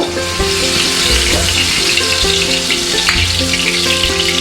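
Whole cumin seeds crackle and sizzle in hot oil over a high gas flame, a steady, close, bright frying hiss with small pops and no voices.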